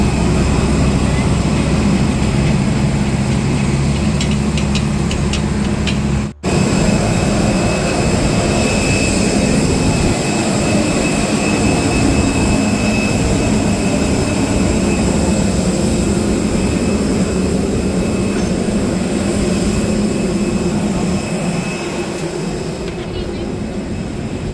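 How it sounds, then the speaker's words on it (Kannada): Jet engines of a passenger airliner roar steadily from inside the cabin, a loud, continuous low drone that persists throughout, with people talking over it. "ಎರಡನೇ ಫ್ಲೈಟ್ನೂ ಸಕ್ಸಸ್ಫುಲ್ಲಾಗಿ ಹತ್ತಾಯಿತು"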